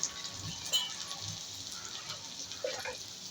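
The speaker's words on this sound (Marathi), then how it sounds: "ऑइलमध्येच मग असं फ्राय पण होते मसाले सगळे" Turmeric and red chilli powder frying in hot oil give a faint, steady sizzle, a soft hiss with a few light pops, heard alone and quietly.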